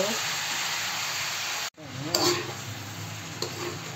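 Carrots and radish sizzling in a pan as they are stirred, a close, steady frying hiss broken by a brief cut, with scraping clinks of the utensil and a voice speaking over it.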